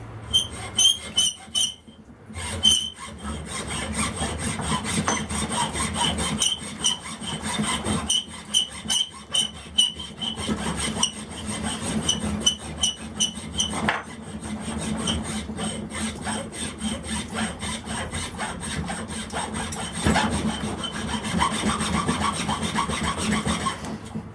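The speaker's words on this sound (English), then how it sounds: "got the end of the hammer handle actually put in my vise, and good old hacksaw. Just gonna chop it down" Hacksaw cutting through a wooden hammer handle clamped in a vise, a steady run of rasping back-and-forth strokes, close and fairly quiet, with a few brief pauses between bursts.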